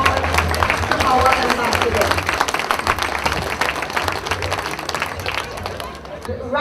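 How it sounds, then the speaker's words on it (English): Audience applause for an ambassador at an embassy-hosted Caribbean event in Washington DC: loud, dense clapping with cheering and crowd chatter, sustained for several seconds. "let's put our hands together and give a round of applause to our"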